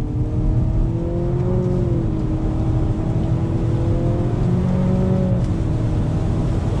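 A 2020 Nissan Altima VC-Turbo sedan accelerating hard under traction control, its engine droning loud and steady with rising and falling tones as it pulls through the revs, heard from inside the cabin.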